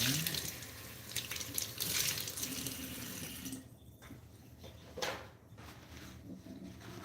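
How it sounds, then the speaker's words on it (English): A kitchen tap runs while a measuring cup is rinsed of leftover sugar during cookie baking, a steady close splash that drops off partway, then a brief surge of water and quieter trickling with small clinks. "And now, you just rinse that out."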